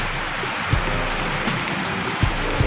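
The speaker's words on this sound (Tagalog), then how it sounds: "Kasi lumalakas na naman yung ulan." Heavy rain pours down at White Sand dolomite beach during Typhoon Fabian, a steady dense broadband hiss with a couple of brief low thumps, no voices.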